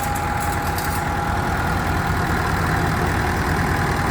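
A Kubota farm vehicle's engine idles steadily nearby, a constant low rumble with a faint sustained whine and no break over the few seconds.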